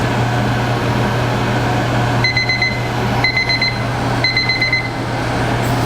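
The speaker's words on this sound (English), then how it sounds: "We'll set our timer for 30 minutes." An oven timer beeps in three short bursts of rapid high tones, each lasting about half a second, sounding over a steady low hum from a hot oven holding powder-coated sleeves at 500 degrees.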